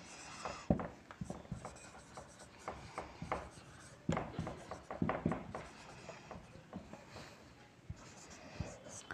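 Pen or chalk writing out grammar categories during a Bengali-language English class, with repeated scratchy strokes and taps close by, moderately loud against a quiet room, no speech over it.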